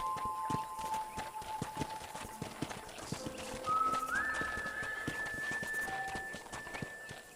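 A ridden horse's hooves clip-clop in a steady walking rhythm on a ranch in Red Dead Redemption, with an occasional whinny and a soft musical tone running underneath.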